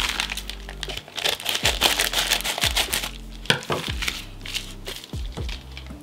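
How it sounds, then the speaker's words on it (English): Lavender scissors snip and crinkle through plastic wrap on a PS5 Resident Evil Village Deluxe Edition steelbook package, giving a close, rapid run of small cuts and crackles with no voice. "so let's use those lavender scissors."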